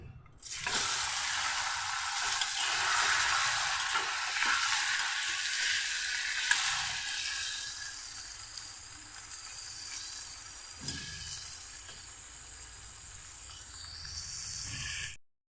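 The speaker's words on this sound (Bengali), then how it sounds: "এখন আমি পনিরগুলি একটু লাল লাল করে ভেজে নেব" Paneer cubes fry in butter in a pan, a bright steady hiss that starts loud and gradually softens, close and alone with no talking.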